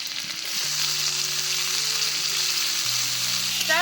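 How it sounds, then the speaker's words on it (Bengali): Chopped onion and tomato fry in a hot pan with a steady, dense sizzle that holds at a constant level throughout, with no talking. "আর টমেটোটা না গলা অবধি ভালো করে ভেজে নেব"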